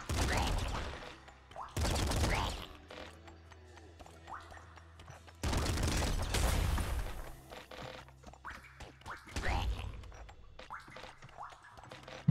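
Bursts of rapid machine-gun fire from a triple machine gun in the top-down shooter Nuclear Throne come in several loud, dense volleys separated by quieter gaps of game noise.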